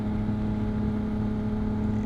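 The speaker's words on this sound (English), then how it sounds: "it works better when you're revving it up like this" Yamaha motorcycle engine drones steadily, close and continuous, holding an even pitch for about two seconds without a clear rise in revs.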